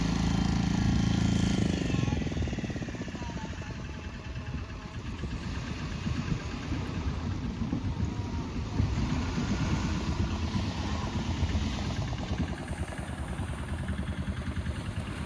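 A truck engine runs steadily at Serenity Beach in Pondicherry while hauling boats up the sand, its low idling rumble continuous and fairly close, mixed with beach wind and surf noise.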